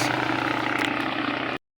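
A toy helicopter drone flies close by with a loud, steady whirring buzz of its spinning rotors, holding constant for about a second and a half before stopping abruptly.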